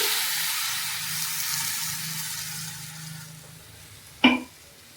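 Potatoes frying in a pan for aloo posto with poppy seed paste about to go in, a steady broadband sizzle holding for several seconds, then a brief sharp clatter near the end before the hiss fades lower.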